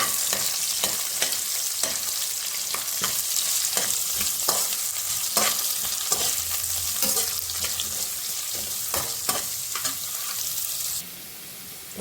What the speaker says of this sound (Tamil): அதுக்கப்புறம் இதில் குடமிளகாவையும் தக்காளியும் ஆட் பண்ணிக்கலாம். நல்லா வதக்கிக்கலாம்.